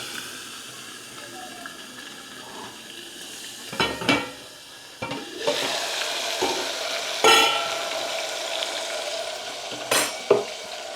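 Tomatoes and asafoetida sizzle in a hot pan for a paneer gravy, with a steady frying hiss and several sharp clatters as a spoon stirs and scrapes the pan.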